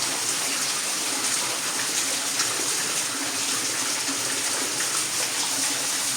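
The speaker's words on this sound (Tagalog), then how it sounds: "Ang tubig oh." A mountain stream flowing down from higher ground at Malungon, a constant loud rushing and gushing of water heard close by throughout, with no talking.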